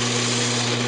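Steady whirring hum of a wood lathe spinning a natural edge maple bowl while it is sanded with 600 grit abrasive, a constant close drone with a low motor tone and hiss and no pauses.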